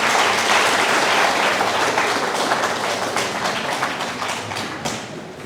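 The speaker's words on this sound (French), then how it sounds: "Je vous invite de l'applaudir." An audience at a graduation ceremony bursts into sustained, loud applause, dense overlapping claps that hold steady and then taper slightly toward the close.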